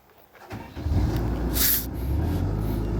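A Sany SY135C excavator's heavy diesel engine starts up and settles into a steady low rumble, with a short burst of hissing air partway through.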